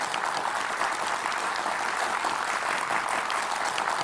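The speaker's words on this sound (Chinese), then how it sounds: "那我们再一次用掌声来欢迎一下嫦娥团队的嫦娥" A studio audience at a television talk show claps in sustained, dense applause, many hands together at an even, loud level with no voices heard.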